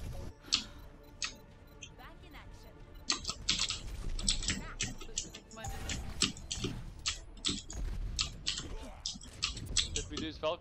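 Rapid typing on a computer keyboard during an Overwatch gaming session, irregular bursts of close, crisp key clicks under someone talking with teammates over voice chat.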